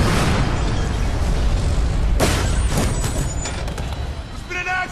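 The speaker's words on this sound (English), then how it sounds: "There's been an accident!" A loud explosion blast in a workplace safety public service announcement, tied to unchecked tanks at a work site, with a rumbling roar filling the clip, a sharper burst midway and a shouting voice near the end.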